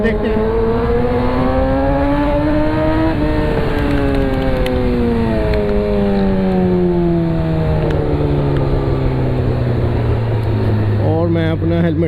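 A Yamaha R6 600cc sport motorcycle with traction control and riding modes revs loud and close, its engine pitch climbing steadily in a long screaming pull, then dropping through a gear change before rising again.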